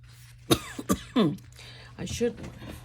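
Several sharp coughs and rough throat clearing from a nearby person, a few abrupt bursts in the first second and a half followed by raspy hacking sounds.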